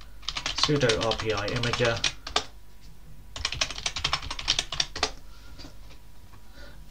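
Computer keyboard typed in quick bursts of close, crisp key clicks while entering a command on a Debian Linux machine, with a pause between runs; someone speaks briefly over it.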